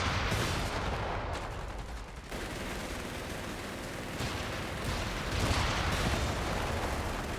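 A bazooka team firing at a tank in Company of Heroes 3, with loud battlefield gunfire and heavy blasts running continuously, punctuated by sharper bursts near the two-second mark and later.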